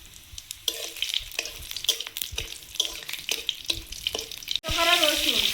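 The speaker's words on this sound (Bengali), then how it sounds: "কড়াইতে তেল দিয়ে দিচ্ছি। 5 ফোড়ন," Five-spice seeds and dry red chillies fry in hot oil in a wok, with a run of sharp stirring scrapes before a loud, steady sizzle surges up near the end.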